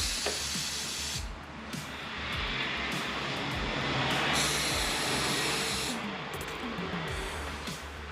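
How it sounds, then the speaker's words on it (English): Ether is sprayed from an aerosol can into the engine of a 1989 Kawasaki GPX750R motorcycle, a loud, close hissing spray that comes in several bursts over a steady background. "Might actually spray it with some ether first."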